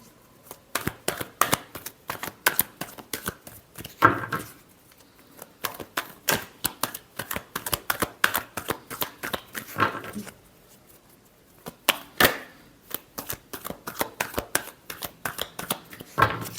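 Tarot cards shuffled by hand: rapid bursts of riffling, papery flutter repeating in steady rounds with short pauses between, close and fairly loud, no talk.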